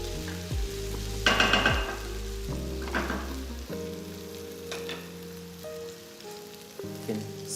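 Garlic sizzles in a pan as it is stirred, a soft crackling fry under scraping and tonal background sounds, with bursts of louder sizzle.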